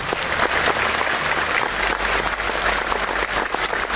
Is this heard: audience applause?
yes